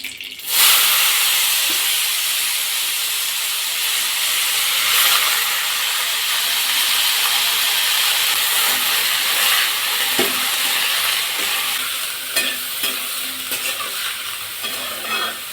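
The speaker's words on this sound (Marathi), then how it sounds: "हे झालं की डायरेक्टली आपला कांदा टाकून द्यायचा." Chopped onion frying loudly in hot oil with mustard seeds, cumin and turmeric, a dense steady sizzle and hiss from close by, with occasional stirring knocks and scrapes against the pan and no talking.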